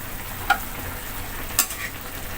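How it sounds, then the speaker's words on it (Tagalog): Chicken adobo with vinegar being stirred in a pot: a few sharp scrapes and clinks of a utensil against the pot, spaced about a second apart, over a soft, steady simmer. "Haluin natin para maluto ang mga nasa ilalim"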